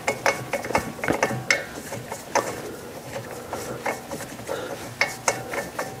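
Metal clanks, taps and scrapes of a brake caliper being fitted back over the disc on a Porsche 993, a run of close, irregular knocks and rattles with no talking.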